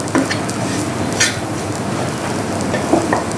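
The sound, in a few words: onion frying in oil being mashed for jackfruit seed kebab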